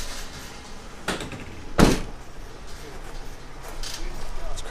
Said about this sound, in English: Around the rear we've got the barn doors, which open out, or you can open them flat.